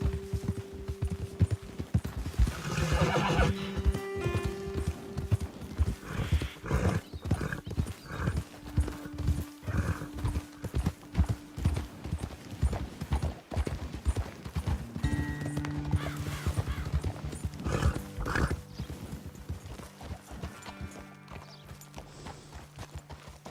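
Horses' hooves clip-clop in a busy, continuous rhythm through the Red Dead Redemption 2 video game, with a few neighs and whinnies breaking through close by.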